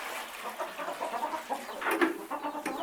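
Hens cluck softly in a henhouse, with a busy stream of low chatter and a few sharper clucks, heard close and moderately quiet.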